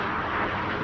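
An aerobatic aircraft roars through a maneuver at Farnborough Airshow, a loud broadband engine drone sustained throughout the moment.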